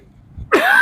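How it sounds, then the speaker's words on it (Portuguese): A single sharp, close cough bursts out after a quiet start and rings on briefly, loud and alone with no talking. "Deu tosse."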